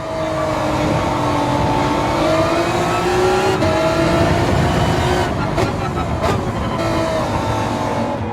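A race car engine in a VR racing game drones loudly and steadily, rising and falling in pitch through gear changes as it revs hard during an overtake, with no talk over it.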